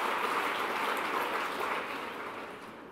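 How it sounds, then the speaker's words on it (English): Broad, steady applause from a large audience at an award speech ceremony, a continuous wash of clapping that swells and then slowly tapers off, with no voices over it. "We should applaud it"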